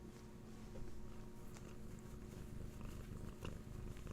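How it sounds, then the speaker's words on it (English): Close-up, soft, continuous purring from a cat, a low steady rumble with faint rustling and a few light taps. "giving some purrs"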